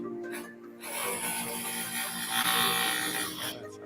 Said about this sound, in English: Sorry about the drilling. It's in my building.